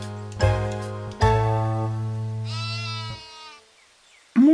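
A cartoon sheep lets out two loud, drawn-out bleats in quick succession, followed by a higher wavering call, with a farm setting and no talking.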